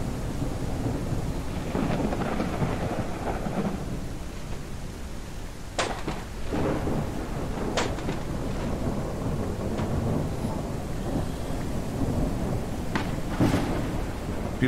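Steady heavy rain hisses throughout a video game storm, broken by several sharp thunder cracks and rumbles, loud and close, with no voices.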